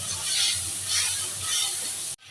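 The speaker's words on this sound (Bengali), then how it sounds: "মশলাটা কষাচ্ছি এখন।" Spices sizzle and fry in a pan with potatoes, salt, black cumin and bay leaf as they are stirred, giving a steady close hiss with gentle swells and a brief scrape and pause near the end.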